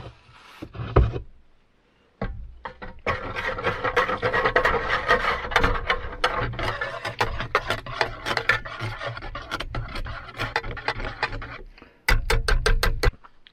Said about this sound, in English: So we do it with a whisk, so we got a whisk.